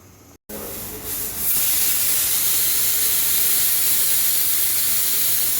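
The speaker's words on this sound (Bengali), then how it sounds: "আমি এবারে কেটে রাখা আলুটা ভাজা বসিয়ে দেবো।" Chopped potatoes go into hot oil in a wok for a home-style Bengali cabbage curry, breaking into a loud, steady, close-up hiss of frying that fills the rest of the moment after a brief quiet start.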